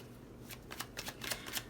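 Tarot cards riffle and slide in a series of quick, crisp shuffling bursts, close and fairly quiet, with small pauses as cards are drawn from the deck.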